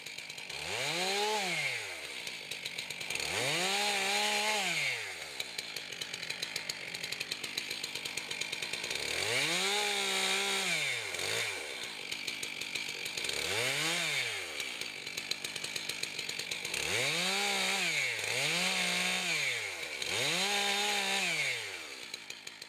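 A chainsaw limbing a felled tree on the ground revs up and down in repeated bursts, roughly six or seven cuts with idle between, loud and close with no talk.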